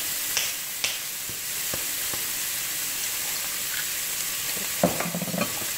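Shrimp and chicken fry in a pan with a steady, even sizzle, close and constant, broken by a few sharp clicks and utensil taps, with no speech.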